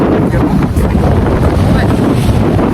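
Strong outdoor wind buffeting a microphone, a loud continuous low rumble with no breaks and no clear talk.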